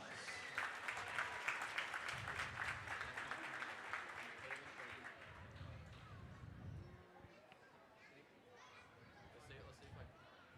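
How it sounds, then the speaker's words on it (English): A crowd at a Knox Central High School girls basketball homecoming game applauds the homecoming court. Faint, distant, sustained clapping and chatter fill a large gym, fading slightly toward the end. "Let's give them a big round of applause."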